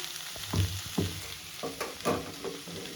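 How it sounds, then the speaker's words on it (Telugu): Chopped beans sizzle softly in a pan with oil, with a steady fry hiss and several light scraping stirs of a spatula, fairly close and without talk. "ఇది కొంచెం ఇలా ఫ్రై అవ్వాలి."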